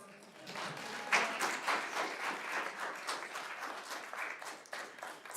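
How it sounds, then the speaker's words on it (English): Scattered audience applause at a city council meeting, a steady wash of claps with a few sharper individual hits, moderately distant and fairly quiet, with no talking over it. "Feel free to applaud all of"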